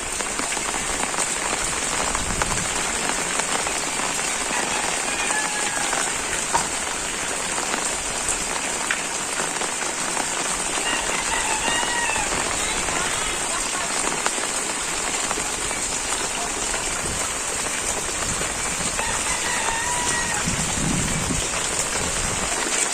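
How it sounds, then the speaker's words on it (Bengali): Heavy rain keeps falling over a wetland village, an unbroken loud hiss of drops on surfaces, with faint bird calls breaking through now and then and no speech. "আজকে বৃষ্টির কারণে ফুলও ঠিক মতো ফুটে নাই।"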